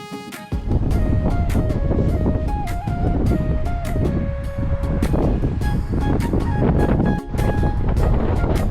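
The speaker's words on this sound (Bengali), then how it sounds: "প্রচন্ড বাতাস ছিল, প্রচন্ড।" Strong wind on a Newcastle beach buffets the microphone in a loud, continuous roar with gusty surges for several seconds.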